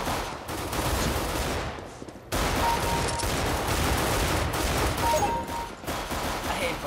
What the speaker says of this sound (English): I hate burst fire